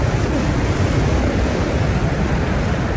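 Fast-flowing river water rushes near a waterfall, a loud, steady, unbroken roar of broadband noise that fills the whole stretch without pause. No voices are heard.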